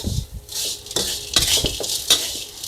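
Mushroom chili paste stir-fried in a pan over low heat, with a bright sizzle and a utensil scraping and clinking against the metal in quick irregular strokes, close and fairly loud.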